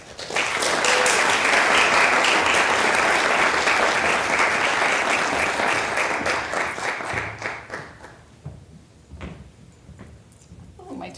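An audience at a prize lecture applauds to welcome the speaker, dense and loud clapping for about seven seconds before tapering off into scattered claps and soft room noise with a door-like thud.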